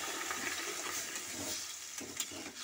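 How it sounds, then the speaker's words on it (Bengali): Water is poured steadily into a cooking pot over meat to boil it, making a continuous rushing, splashing flow that stays close and fairly even. "আমি এবার জল ঢেলে দিচ্ছি সেদ্ধ হওয়ার জন্য"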